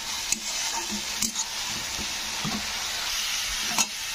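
Chopped onions fry in a pan while being stirred, giving a continuous close sizzle broken by regular scraping taps of the spatula.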